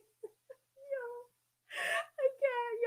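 A cat meowing up close, with a few short chirps, a drawn-out plaintive meow, then a longer wavering cry, and a brief breathy noise in between.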